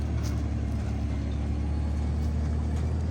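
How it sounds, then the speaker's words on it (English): Steady, droning engine of a Toyota Land Cruiser 4.5 reversing with a trailer through a sandy area, a continuous low rumble heard close up with no clear changes. "It's not as easy as it looks, reversing a trailer in a sandy place with a Land Cruiser."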